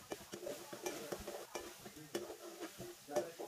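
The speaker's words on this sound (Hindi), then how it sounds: "अब मैं इसको थोड़ा सा भूनूंगी क्योंकि इनकी जितनी भुनाई होगी उतना ज़्यादा अच्छा है।" Meat kabab mixture is stirred and fried in a pan for a Pakistani galawat kabab, with a soft sizzle under repeated scraping and stirring strokes, fairly quiet and close.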